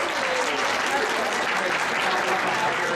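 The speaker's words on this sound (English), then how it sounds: "give them a round of applause" A round of applause from the audience at a sci-fi cosplay contest, broad continuous clapping with crowd murmur and a voice faintly beneath it.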